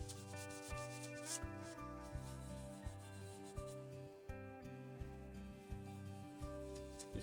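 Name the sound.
rubbing product in circles onto a surface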